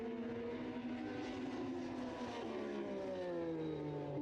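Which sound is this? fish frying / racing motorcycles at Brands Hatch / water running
racing motorcycles at Brands Hatch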